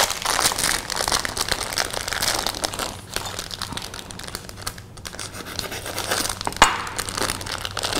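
A plastic bag of semi-sweet chocolate chips being torn open by hand, close-up crinkling and rustling with repeated pulls and a sharp rip near the end.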